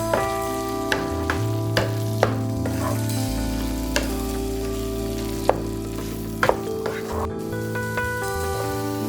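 Liver frying in a pan for a spicy liver fry, sizzling steadily throughout. A spoon scrapes and stirs at intervals, giving sharp clicks over the constant hiss.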